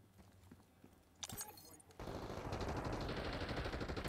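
Rapid automatic gunfire bursts out in Call of Duty Black Ops 6 multiplayer gameplay, a short shot first, then sustained loud firing that continues to the end.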